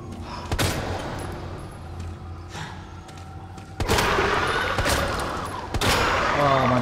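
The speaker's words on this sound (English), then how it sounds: "I shot both my bullets by accident" Accidental gunfire in Resident Evil 2 Remake: a few loud, sharp shots spaced seconds apart ring out over a dense, steady game soundscape.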